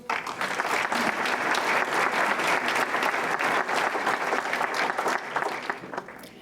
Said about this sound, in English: please give a round of applause for our host this evening, Chris Nichols